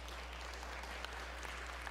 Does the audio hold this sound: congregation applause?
yes